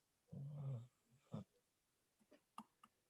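A dog gives a short low growl-like vocalization, then a second brief whine, followed by faint snuffling and breathy sounds, heard nearby but quietly in an indoor room.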